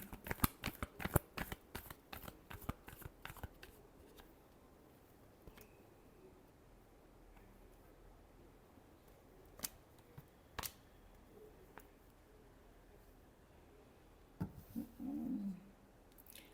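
Tarot cards are shuffled by hand in a quick burst of crisp riffling snaps over the first few seconds, then a few isolated flicks and soft rustles follow in a quiet room, closing with a short, louder rustle.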